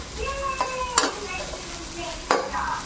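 Garlic, onion and ginger sautéing in a pan for crab cooked in coconut milk with squash and string beans, a steady close sizzle broken by a few sharp scrapes of stirring, with no talk.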